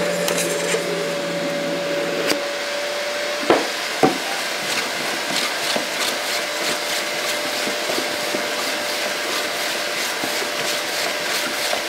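Vacuums running steadily on a homemade vacuum clamp holding a piece of wood, a constant whining hum, a tonal whine that cuts off early, a couple of sharp knocks and light clicks over it.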